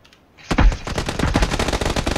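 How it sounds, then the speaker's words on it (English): Gunfire in the battle royale game PUBG: after a brief quiet start, loud rapid automatic bursts rattle close by in a fast, even rhythm, with no talk over them. "Chris, what are you shooting at?"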